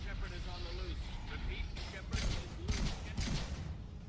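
A switched weapon fires in Mass Effect 2 Legendary Edition as game gunfire, heard as a few bursts under steady game background noise while a voice speaks over it.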